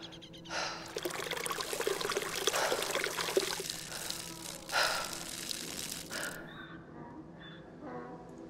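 Liquid is poured out and spilled from a container in the survival video game SCUM: a close, splashing gush that runs for several seconds with brief pauses, then stops, leaving a quiet tail with faint clicks.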